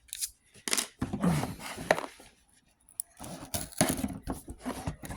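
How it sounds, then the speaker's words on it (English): Tape being peeled and torn off a Monopoly Basketball Prizm trading card box, close and fairly quiet, a series of short ripping and crackling bursts with brief gaps between them. "I still got more tape to undo here"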